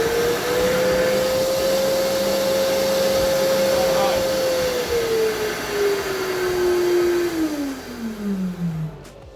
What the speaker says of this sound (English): So that's the suction on low.